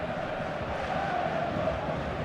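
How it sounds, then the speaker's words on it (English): Stadium crowd noise from the eFootball video game: a dense, steady roar of many voices, moderately loud and unbroken, with no clear talk above it. "The stadium is full of noise and energy."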